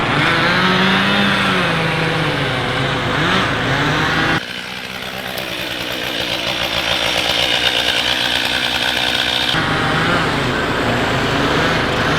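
Bobcat machine at a tree-felling site, a loud continuous engine drone with shifting revving tones, close by and steady, with a brief dip and change in pitch partway through before returning to full roar.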